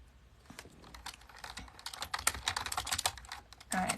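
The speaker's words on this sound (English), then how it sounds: "I don't know why people are interested about the keyboard. They like the sound." Rapid clicking of computer keyboard keys, a steady stream of close, crisp keystrokes that grows busier and louder toward the end, with no talking.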